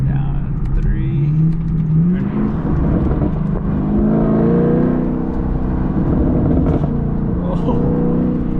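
A 2021 Camaro SS fitted with an MBRP catback exhaust revs hard, giving a loud, close, rising and falling engine roar with crackling pops, while people talk over it.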